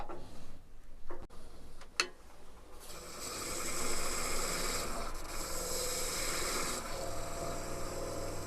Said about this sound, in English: And since the outside of the shell will be painted, I'm not going to sand to too fine a grit.